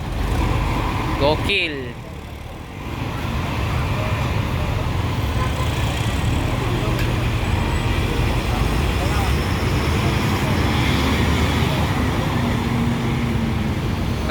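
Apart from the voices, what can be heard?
tourist buses leaving a bus terminal, traffic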